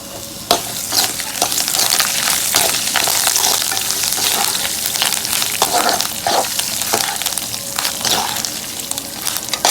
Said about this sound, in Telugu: వేగిపోయింది తాలింపు